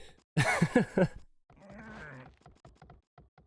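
Sheep bleating in the Age of Empires II strategy game, a loud burst of several quavering bleats followed by a softer, wavering bleat, with quieter game sounds ticking behind.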